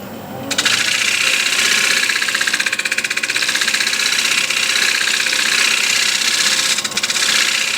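Sanding a large wooden bowl, a loud steady abrasive whir with a rhythmic rubbing pulse that starts abruptly and runs almost unbroken, close up, with no talking.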